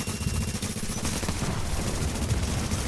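Rapid bursts of automatic gunfire crackle through a Dark Zone firefight in The Division video game, dense repeated shots overlapping into a near-continuous fusillade with no voices heard.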